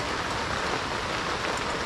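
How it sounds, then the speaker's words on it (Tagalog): Rain pours steadily outside a small farm hut in wet weather, a dense continuous hiss of drops close by with no talking. "Ang ulan, oh."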